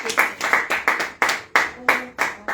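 A church congregation at a women's worship service claps hands in a rhythmic pattern, about ten sharp, close, loud claps in even beats with brief gaps between them.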